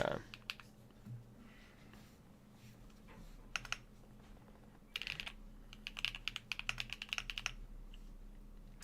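Rapid clicky keystrokes from a custom AKB Petrichor keyboard with foam inside and HMX Hades switches, coming in bursts and rattling runs over a faint low hum, close and fairly quiet.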